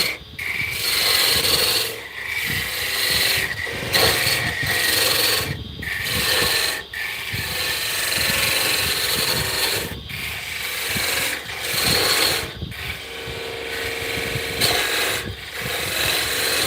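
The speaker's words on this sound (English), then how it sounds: "And we will do some hand sanding." Rhythmic rasping strokes of sandpaper rubbed by hand over a spalted hickory box, repeated back and forth with short pauses between passes, close and loud.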